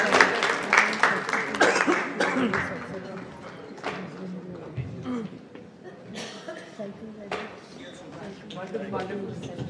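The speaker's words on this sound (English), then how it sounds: "Can you please have a round of applause for all three of us?" An audience at a writers festival claps, loud at first and then fading, while people talk over it.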